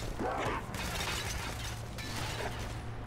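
A glass display case holding a Molotov shatters in the zombie shooter Left 4 Dead 2, near a mall escalator. A crisp crash rings out near the start over a steady bed of loud game noise.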